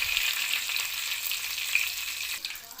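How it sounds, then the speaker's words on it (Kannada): Cumin and coriander spluttering in hot oil for a tempering, a bright continuous crackling sizzle heard up close and alone, steady throughout with a few brief pops. "ಒಗ್ಗರಣೆ ರೆಡಿ ಆಯಿತು"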